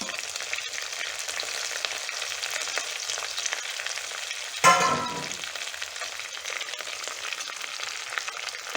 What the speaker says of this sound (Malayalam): ഇനി ഇത് നന്നായൊന്ന് വഴറ്റിയെടുക്കാം ഇഞ്ചിയും വെളുത്തുള്ളിയൊക്കെ നന്നായിട്ട് മൂത്ത് വന്നിട്ടുണ്ട്